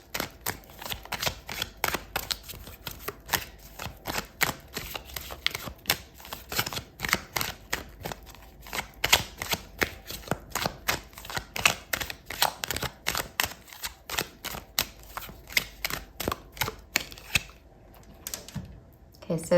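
Tarot cards shuffled by hand during a reading, a long run of rapid crisp riffling clicks and flutters, close and steady, ending with a card drawn out; a voice speaks over parts of it.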